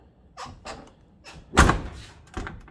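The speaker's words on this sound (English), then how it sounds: "Let's go ahead and shut the door." A car door on a 1972-93 Dodge swings shut with one loud, close slam, framed by a few lighter knocks and a softer thud after it.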